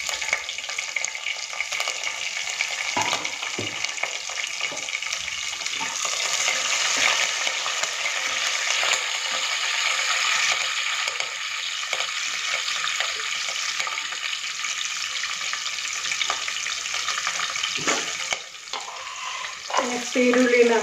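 Curry leaves, green chillies and onions crackle and sizzle in hot oil, a steady dense frying hiss that runs the whole time with occasional stirring clatter, close and fairly loud, no voices.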